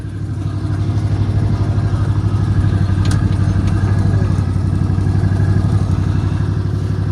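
An Argo ATV engine runs steadily nearby, a loud, low, rhythmic putter with a faint clatter, holding an even idle-like drone for the whole stretch.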